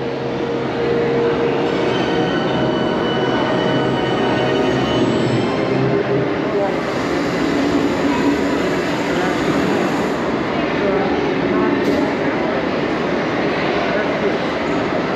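The Hogwarts Express ride train at Universal Orlando gives a steady, loud rumble with continuous rolling noise and a brief squeal near the end, heard from on board with no talk.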